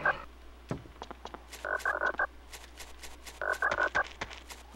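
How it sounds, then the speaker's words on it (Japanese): Frog croaking in the GameCube game Giftpia: short bursts of rapid, raspy croaks in two clusters, separated by faint clicks over a quiet, steady background hum. "どっかにカエルがいるな。"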